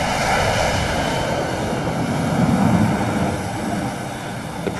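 Jet aircraft engines roar steadily during launch operations aboard a carrier, a loud continuous rumble with broadband wind-like noise and no talk.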